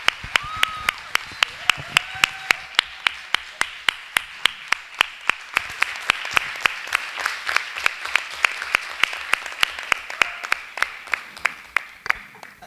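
Applause at a school board meeting after a student's spoken performance, heard as a regular series of sharp, close hand claps over a softer background of scattered clapping, with faint voices and tones underneath.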